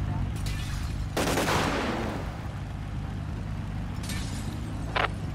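A brief burst of gunfire erupts during a traffic stop in GTA 5 with the LSPDFR police mod: a sharp broadband crack around one second in, a short rattle after it, and a smaller shot near the end, over steady engine and ambient game noise.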